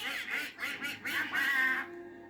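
Ducklings quacking in a 1962 ugly duckling film, a run of four or five quick nasal calls close up, then a short fading tail of room noise.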